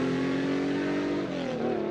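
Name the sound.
Porsche car revving and driving away, radio advert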